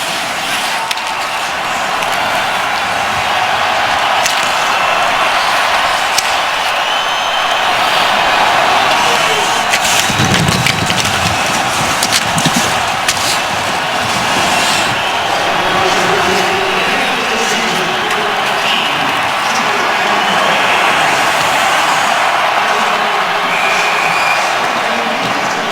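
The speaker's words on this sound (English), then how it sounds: "We wanted you to just hear some of the crowd and the reaction there in the last seconds of this one." Crowd noise at an NHL hockey game between the Pittsburgh Penguins and Chicago Blackhawks in an outdoor snowy setting, a broad continuous roar of cheering and clapping during the final seconds, steady and fairly loud throughout.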